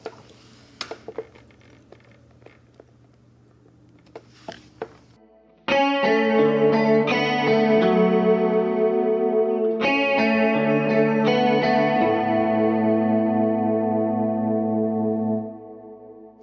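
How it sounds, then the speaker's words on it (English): After a few quiet clicks and faint handling noises, electric guitar chords ring out with a lush, swirling chorus shimmer, sustaining before fading. "And this is what the chorus sounds like."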